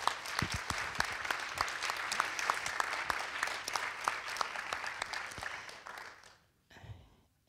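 A German audience applauds steadily for several seconds after a European Film Award mention, a dense patter of clapping that fades out, followed by a brief quiet murmur.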